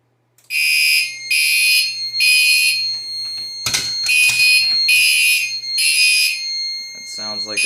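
A fire alarm system being tested sounds in loud, repeated buzzing horn bursts with short gaps between them, and a person speaks briefly between bursts and near the end.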